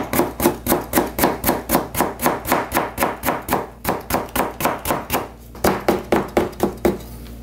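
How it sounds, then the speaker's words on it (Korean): A knife chops vegetables into thin strips for white kimchi on a cutting board. The quick, steady knocks come close and loud, roughly three per second, with one brief pause partway through. "저렇게 해가지고는 조금 가늘게 채 썰게요"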